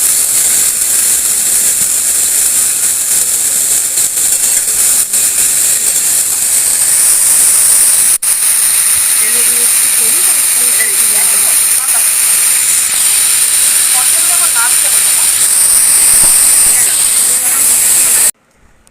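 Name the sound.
bay leaf, dried chilli and cumin tempering sizzling in wok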